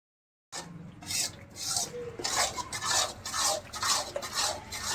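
Urad flour being stirred and roasted in a pan over a medium gas flame for adadiya, a steady scraping rub of spoon against metal repeating in close, regular strokes with no talk.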